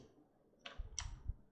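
A few soft keystrokes on a computer keyboard, two or three faint clicks in quick succession against a quiet room, no talk.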